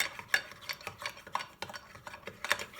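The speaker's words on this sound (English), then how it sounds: "let me give that a stir" A spoon stirring a Thrive drink mix in a cup, giving quick repeated scraping clinks and light taps in an uneven rhythm, close by and with no talking.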